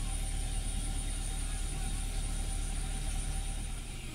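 Toyota Avanza engine running at about 1900 RPM after an alternator repair, a steady close mechanical hum with a constant whine throughout, nothing else over it.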